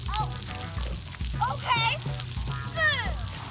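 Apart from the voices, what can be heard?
water spraying at a splash pad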